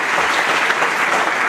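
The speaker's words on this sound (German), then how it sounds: "nochmal einen Applaus für unseren Peter Ischka" An audience at a German-language talk bursts into dense, loud applause, many hands clapping steadily without a break.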